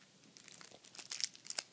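A deck of Magic: The Gathering cards being shuffled by hand, giving quiet, irregular crisp riffles and crinkly bursts that grow busier toward the end, with no voices over them.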